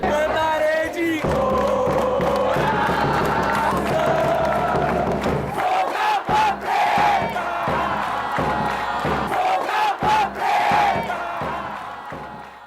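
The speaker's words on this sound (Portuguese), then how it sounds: "Legal a gente finalizar com essas imagens da torcida do Rio Branco animada" Rio Branco football supporters cheering and chanting in a stadium, a loud sustained crowd roar with rhythmic sung chants and whoops that fade slightly toward the end.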